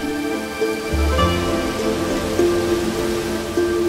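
Heavy monsoon rain falls over the forested Western Ghats in India, a dense, steady hiss and patter on surfaces, continuous and fairly loud, with no voices.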